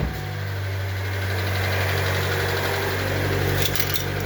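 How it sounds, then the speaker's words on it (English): A 2011–2014 Hyundai Elantra engine running at a steady idle, a constant low rumble with a mid-range hum, loud and close throughout with no talk over it. "I'm going to start the vehicle."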